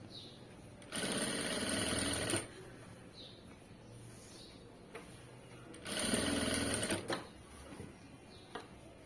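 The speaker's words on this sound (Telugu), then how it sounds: "ఇలా మొత్తం కూడా నీట్గా స్టిచ్ చేసుకుంటూ వెళ్ళిపోవాలి" A sewing machine stitches thread piping in two loud, buzzing runs of about a second and a half each, separated by quiet pauses with faint handling clicks.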